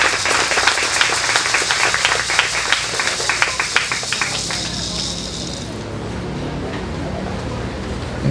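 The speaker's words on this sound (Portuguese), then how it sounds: "Palmas, gente." An audience at a panel on Indigenous rights in Brazil gives a dense burst of clapping that carries on steadily for several seconds, then fades into a quiet room hum.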